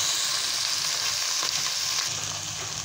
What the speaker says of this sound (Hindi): भिंडी हो चुकी है अच्छे से फ्राई